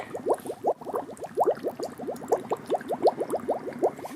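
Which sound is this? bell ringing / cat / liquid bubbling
liquid bubbling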